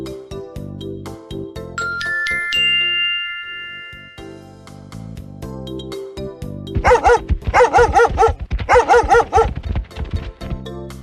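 After jingling chimes and soft music, a big dog barks repeatedly in a quick burst of several loud barks, close by.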